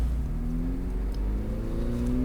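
Exhaust note of a 2024 McLaren 750S Spider on the street, heard from inside the cabin as a loud, steady engine drone rising gradually in pitch under acceleration.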